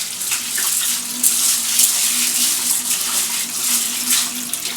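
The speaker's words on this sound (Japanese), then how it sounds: "小豆洗いですね" Azuki beans are rinsed in water for homemade strawberry daifuku, giving a steady close splashing and sloshing with rushing water throughout and no talk.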